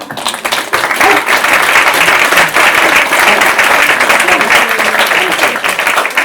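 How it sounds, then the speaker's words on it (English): A theatre audience claps for a magic parlour-trick show, dense, loud applause filling the room continuously from start to finish with no voices standing out. "In the round of applause."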